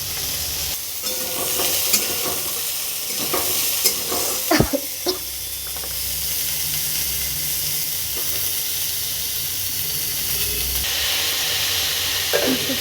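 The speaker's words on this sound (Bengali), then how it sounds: "অ্যাড করে দিচ্ছি টমেটো পেঁয়াজ এবার নাড়াচাড়া করবো" Chopped tomato and onion are stirred in a sizzling pan, a spatula scraping and clacking against the metal in a busy cluster of strokes before settling into a steady hiss of frying.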